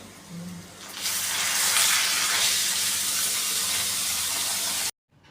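Crushed garlic cloves sizzling in hot oil in a home kitchen, a loud continuous hiss that swells after a quiet start and then cuts off abruptly.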